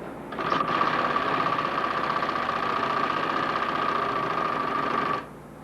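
Bonnaz embroidery machine running steadily for about five seconds, a fast, even mechanical whir with a buzzing tone, then cutting off abruptly.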